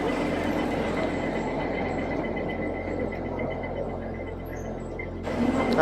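Airport terminal shuttle train, a rail car running between terminals, gives off a steady rolling hum and rumble throughout, swelling slightly louder near the end, with no talking.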